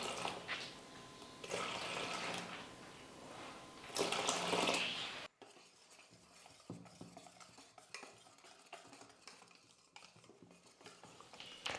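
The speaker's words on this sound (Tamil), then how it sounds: "இப்போ தண்ணி சேர்த்து கொஞ்சம் கூட உருண்டைகள் எல்லாம் எதுவுமே இல்லாத மாதிரி நல்லா கரைச்சி எடுத்துக்கலாம்" Close, soft stirring and scraping of a thin semolina dosa batter with water in a bowl, continuous swishing with faint utensil clinks, quieter in the second half.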